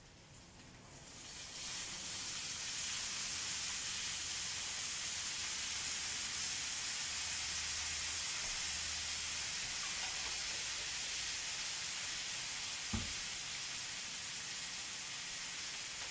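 Garlic sizzles steadily in a hot pan as a small amount is added, a continuous broadband hiss that rises after the first second and holds evenly, with a brief clink near the end.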